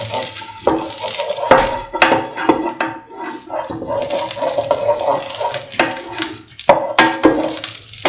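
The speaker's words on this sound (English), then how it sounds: "And spread the oil in the pan." Oil being spread around a frying pan with a utensil: repeated close scraping and clinking of metal against the pan, steady and fairly loud, with faint sizzling underneath.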